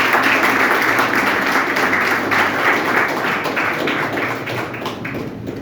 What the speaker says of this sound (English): I request all of you to give him a big round of applause